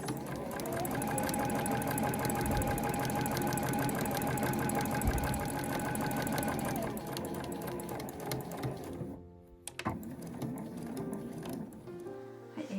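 A sewing machine runs a fast, steady stitch through quilted nubi fabric while sewing a small insulated drawstring tote. The close, continuous mechanical whirr lasts about seven seconds, then slows and stops, with short bursts of stitching after it.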